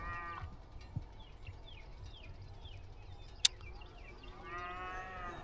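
Mashona cattle mooing at a distance: two long, faint, drawn-out moos, one at the start and one at the end, with birdsong and a sharp click between them.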